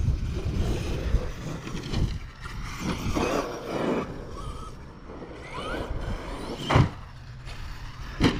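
An ARRMA 8S EXB V2 RC car, a 14 kg eight-cell basher, runs outdoors with its motor whining and rising and falling amid wind noise, with a couple of sharp knocks from the chassis.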